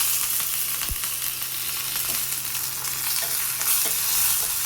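Tempering for ridge gourd chutney sizzles and fries steadily in a pan, a constant close hiss with a few soft stirring clinks and taps, and no voices.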